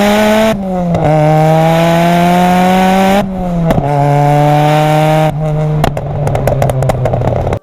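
A Ford Sierra RS Cosworth turbo engine revs hard and loud, climbing steadily through several long pulls with sharp drops between gear changes, its turbo pushing above 3000 rpm, close by with no talk.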